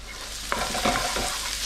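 Garlic and ginger fry in a pan while being stirred for a chilli mud crab dish, giving a steady close sizzle with a few scraping stirs.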